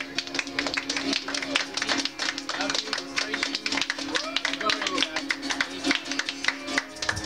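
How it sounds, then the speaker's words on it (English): A church congregation claps hands together during a praise and worship service, a lively run of quick, rhythmic claps mixed with voices and cheering. "can we give a clap of hands to the Lord?"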